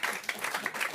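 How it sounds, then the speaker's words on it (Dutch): A live audience at an IEPENUP event claps for two women brought on stage, a short burst of scattered, moderately close hand claps lasting about a second. "Geef ze een applaus"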